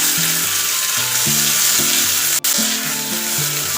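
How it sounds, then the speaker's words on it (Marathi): Pavta beans roast in a little oil in an iron kadai, giving a loud, dense, continuous sizzle close up, with a faint repeating tonal pattern under it and one brief dropout. "इथे मी लोखंडी कढई घेतली त्यात थोडं तेल टाकून पावट भाजून घेऊया"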